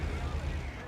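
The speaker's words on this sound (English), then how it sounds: "Arty fired, so I know now I've got a bit of time to move" Artillery fire in the World of Tanks game, a dull low rumbling boom that fills the whole second under a steady game soundscape, fading slightly at the end.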